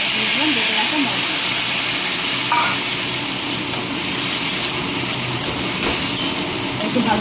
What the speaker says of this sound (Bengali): একটু ভালো করে একটু কষিয়ে নেব।